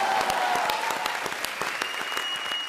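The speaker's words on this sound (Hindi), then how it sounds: "जोरदार तालियां अर्चना जी के लिए." A studio audience on a television comedy show claps in steady, moderately loud applause, with a few sharp individual claps standing out above the crowd.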